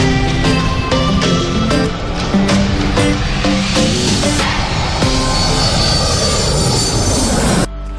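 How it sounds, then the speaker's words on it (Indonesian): An airplane flying, its loud engine drone layered with a sustained tonal hum and a string of rhythmic beats, continuing steadily before dropping off abruptly at the end. "Sekarang saatnya kita berpetualang menggunakan pesawat terbang."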